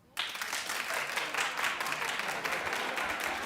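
Talk-show audience breaks into applause after a short quiet start, a dense sustained clatter of many hands that holds steady throughout.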